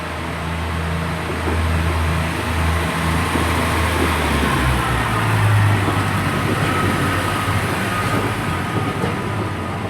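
A Class 142 Pacer diesel multiple unit rumbles steadily as it pulls out toward the sidings at Cheltenham Spa station, a continuous low engine drone with rolling rail noise, fairly near and unbroken.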